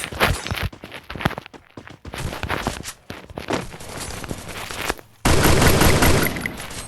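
Rapid gunfire bursts from a Free Fire battle royale gunfight, clustered in dense volleys with brief gaps and a loud sustained stretch near the end, mixed with footstep-like shuffling.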